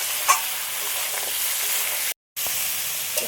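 Crab and pumpkin sizzle steadily in hot oil in a pan, a dense, even crackle with a few light stirring knocks and one brief dropout to silence.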